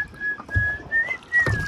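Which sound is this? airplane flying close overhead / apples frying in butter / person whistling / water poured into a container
person whistling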